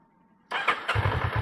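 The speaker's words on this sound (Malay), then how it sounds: "kemudian kita start motor lah." A motorcycle engine cranks and fires up, then settles into a steady putter, close and fairly loud, after a brief quiet moment.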